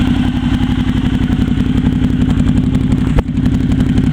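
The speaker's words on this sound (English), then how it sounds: "I'm sure you need to listen to this exhaust, but it really is lovely." A motorcycle engine idling close by with a deep, steady, rapid exhaust burble, loud and even, with a brief clunk near the end.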